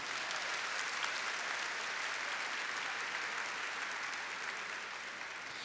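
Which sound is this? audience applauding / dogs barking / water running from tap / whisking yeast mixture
audience applauding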